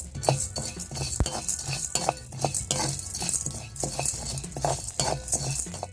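Spices and chana dal are stirred in a pan, a metal spoon scraping and clinking in a busy, irregular rhythm over a light sizzle, close and fairly loud, with no talking.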